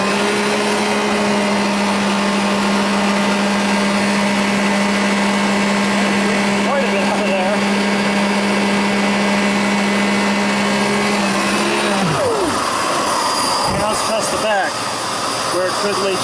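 A Simplicity Riccar HEPA vacuum cleaner, a brand-new floor model, runs with a loud, steady motor whine and airy rush; around twelve seconds the pitch sags and the motor winds down into softer clatter, with a person talking nearby.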